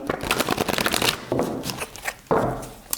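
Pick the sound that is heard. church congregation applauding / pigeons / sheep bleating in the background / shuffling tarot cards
shuffling tarot cards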